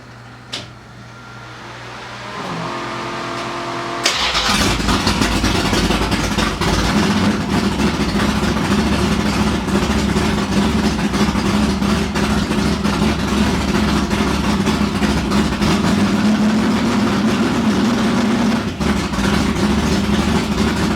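A Dodge Duster drag car with a 13.25:1 compression solid roller cam engine cranks over briefly, fires and settles into a loud, rough, lumpy idle that runs continuously, close up, with no talk.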